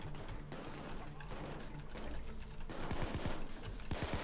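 Gunfire rattles during a street shootout in a PayDay 2 bank heist, with sniper shots mixed in: bursts of rapid shots crack under a steady layer of combat noise while players talk over it.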